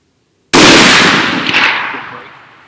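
A single loud, sharp crack from a 6.5 Creedmoor precision rifle fired on a long-range ladder-load test, starting from silence and trailing off in a long outdoor echo.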